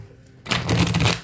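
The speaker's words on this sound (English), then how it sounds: "Let me give it another shuffle" Tarot cards shuffled in a quick, papery burst of riffling that starts abruptly after a quiet moment and continues close and fairly loud to the end.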